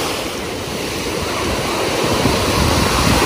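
Ocean surf at a Miami, Florida beach, a steady close roar of breaking waves and wash that builds slightly and stays unbroken throughout, with wind buffeting the microphone and no voices.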